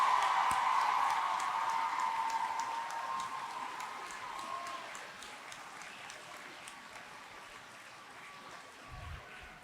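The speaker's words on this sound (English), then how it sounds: "How about another big round of applause for all our 8th grade celebrants?" The audience at an 8th grade graduation gives a steady round of applause, faint and distant in a large hall, fading slowly over several seconds.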